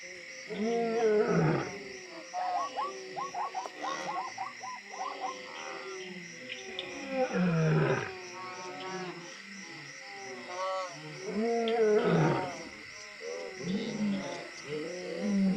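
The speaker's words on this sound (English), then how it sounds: "Prides of lions roar to make sure that the boundaries of their territories are clear to neighboring families." A pride of lions roars to mark its territory, deep, drawn-out roars rising in repeated waves with grunting calls between them. The sound is loud and fairly close throughout.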